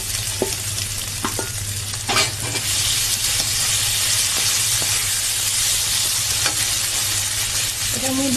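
Paneer and dried Kashmiri chilli fry in hot ghee with a steady, close sizzle and hiss, broken by occasional clinks and scraping of stirring.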